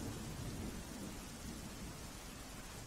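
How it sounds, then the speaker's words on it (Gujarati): Heavy monsoon rain over Tapi district, Gujarat, near the Ukai dam: a dense, steady roar of downpour with low rumbling, continuous and loud throughout, no voices. "તાપીમાં વરસાદ ભારે થયો છે"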